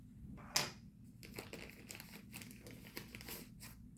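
A toolkit package is torn open with crisp, close crinkling and tearing of plastic in irregular bursts, faint overall.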